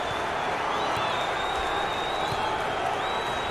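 A basketball arena crowd at an NCAA tournament game between Jacksonville State and Dayton keeps up a dense, continuous roar of voices with scattered clapping, while a high whistle-like tone sounds intermittently above it.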